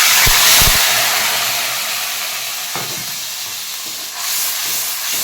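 Ground onion, garlic, ginger and cumin paste hitting hot oil in a pan gives a loud, close, continuous sizzling hiss that slowly eases, with a few soft knocks near the start.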